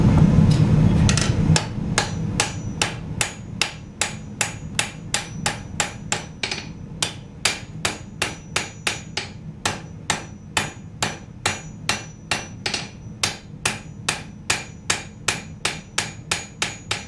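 A hammer strikes a blade over and over as a taper is forged from the thick spine down to the point, the sharp ringing blows falling in a steady even rhythm, close and loud, with no talking.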